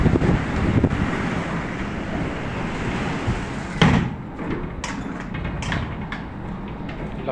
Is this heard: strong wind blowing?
yes